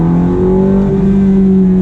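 A Ferrari F430 engine pulls steadily in sport mode from inside the cabin, a loud, sustained, rising drone with strong tonal harmonics and no talk over it.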